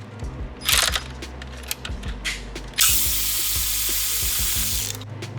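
Ratchet wrench works bolts loose on a 2008 Ford Taurus during a spark plug job, its rapid clicking pawl running in bursts, close and loud, with a hissing swell of noise partway through and no voices.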